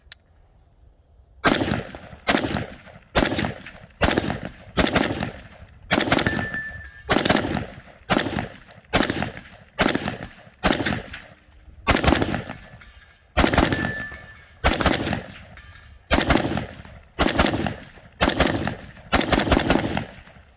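CZ Bren 2 MS carbine, fresh out of the box and unlubricated, emptying a full magazine on an outdoor range. Roughly thirty loud, sharp shots crack at a steady, even pace, each with a short echo tail.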